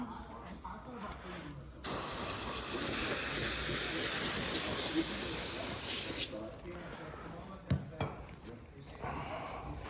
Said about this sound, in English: Brake cleaner always works good working on vehicles, especially to clean stuff, get oil, anything off stuff